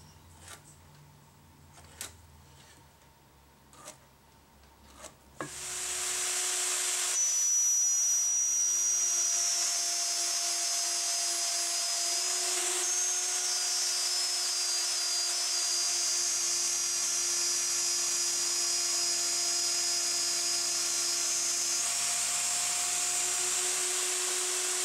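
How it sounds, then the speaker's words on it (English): A router flattening the top of a Les Paul Junior-style guitar body: after a few light knocks, a loud, steady high-pitched whine starts and runs continuously at close range for about twenty seconds. "I'll run a router across the top and just take all this material off and get it dead flat"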